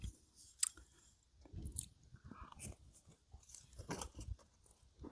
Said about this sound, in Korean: 한번 찍어서 먹어볼게요.